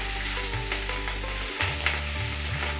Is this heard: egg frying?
yes